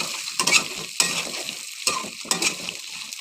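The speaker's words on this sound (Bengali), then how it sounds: "আগে মাছগুলো ভাজবো, তারপর ট্যাংগুলো দিয়ে নেবো।" Prawns frying and being stirred in a pan for a Bengali chingri bhuna, a steady close sizzle broken by several loud scraping stirs, with no talking.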